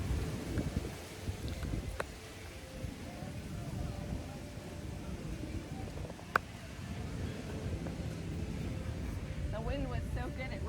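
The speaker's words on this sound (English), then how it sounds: "The wind was so good it rotated the whole camera." Strong wind on a Bali beach buffets the camera, a steady rough roar and rumble throughout with a few brief knocks, while a person talks faintly under it.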